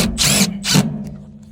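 Power drill driving self-tapping screws into a fiberglass pad under a Carrier mini split condenser, two close, loud whirring bursts, each under a second, followed by quieter handling sounds.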